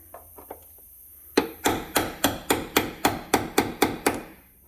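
A hammer striking a chisel to drive out a door hinge pin on a 2006 Chevrolet Silverado, starting with a few light taps and then about ten sharp, evenly spaced metallic blows, loud and close.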